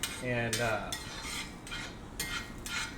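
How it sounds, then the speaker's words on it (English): Minced small white onion goes into a hot pan, a soft sizzle under scraping and stirring of a utensil against the pan, with brief clinks; a voice starts a word. "Get that guy in there, and kind of cook this till it gets translucent."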